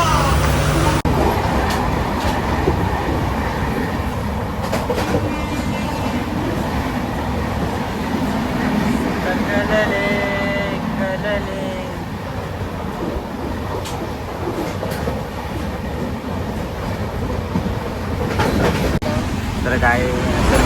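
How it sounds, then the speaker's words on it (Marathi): A train running in Mumbai, with a continuous rumbling rattle of the rail carriage filling the whole stretch while people talk over it. "ट्रेन चालली की काय? ट्रेन सुरू होते ना?"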